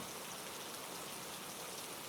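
Steady rain patters against the windows of a seaside harbor inn, a dense, even wash of sound that stays constant and close throughout, with no voices.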